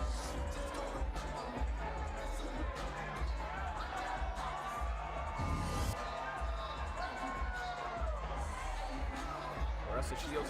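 Lively crowd cheering at a women's boxing fight in Detroit, Claressa Shields versus Sylvia Szabados, a steady roar of arena noise with scattered shouts and a babble of voices throughout.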